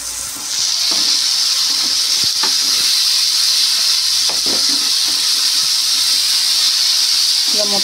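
Sliced green chillies and carrots sizzle steadily in a hot pan for masala egg noodles, a continuous close hiss with occasional clinks of a utensil stirring through them.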